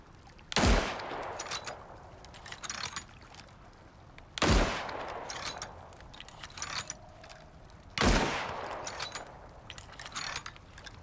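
Three sharp gunshots from the survival game Icarus ring out about every three to four seconds, each a loud broadband crack with a short decaying tail, alone with no talk between them.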